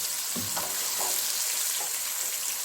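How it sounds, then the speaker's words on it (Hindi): Onion with ginger-garlic paste fries in a pan, a bright, hissing sizzle with a few quick stirring knocks over a short stretch; no one speaks. "इसको हम 3 से 4 मिनट भूनेंगे"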